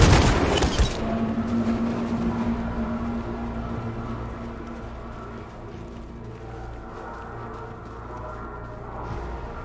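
Heavy gunfire opens fire on unarmed protesters in the video game Detroit: Become Human, a loud burst at the start that drops into a low rumbling, echoing wash with a steady hum.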